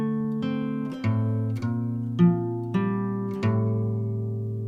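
An acoustic guitar plays a measure of a song, about six picked chord strikes in an even rhythm, each ringing out clearly and close, with no talking.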